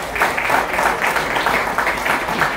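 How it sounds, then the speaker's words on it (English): A crowd at a product launch event applauds steadily, dense clapping that swells slightly and holds for a few seconds without a break. "can we have a huge round of applause for Mr. Ashutosh"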